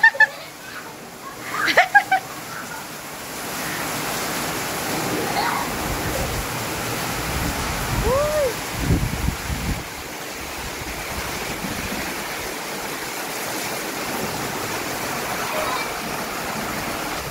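Heavy rain with big drops falling outdoors makes a steady, dense hiss and patter throughout, while voices and a few sharp splashes break in near the start and middle.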